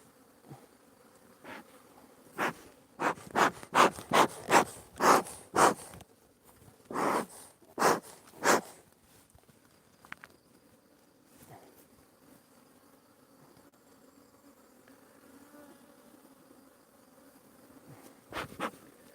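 Honeybees buzzing around beehives during hive work, the buzzing coming in a run of loud, close passes early on, then thinning to a faint background hum with a few later bursts.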